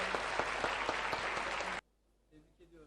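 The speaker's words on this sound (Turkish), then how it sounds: "Keskin, Kasımcan Arıkanoğlu ve Belinay Başar hep birlikte alkışlayarak tebrik ediyoruz onları" A burst of crowd applause at a ceremony congratulating students, dense and steady, cuts off abruptly, followed by quiet and a voice beginning to speak.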